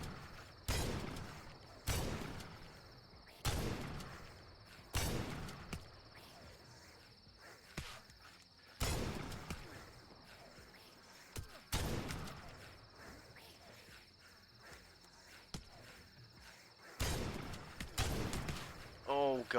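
Shotgun blasts from The Last Stand Aftermath crack out in a steady series of about nine sharp, punchy shots spread across the stretch, each with a short decay, over a constant high-pitched whine.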